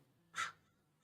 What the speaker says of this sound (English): Ah, the crows.